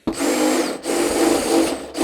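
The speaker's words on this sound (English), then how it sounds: "we're gonna use this little step drill bit to just kind of drill these guys out" A step drill bit bores holes into a 2016-or-later Toyota Tacoma body panel during a snorkel installation, three close whining bursts of drilling separated by short pauses.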